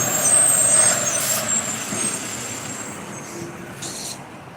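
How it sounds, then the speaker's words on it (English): A big truck passes loudly, with a sharp hiss of air brakes at the start and fainter hisses later as the engine rumble fades. "Big trucks."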